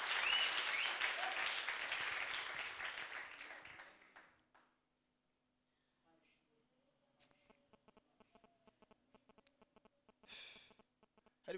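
Church congregation clapping together, a loud dense burst of applause that fades out over about four seconds, followed by near silence with faint soft taps and clicks.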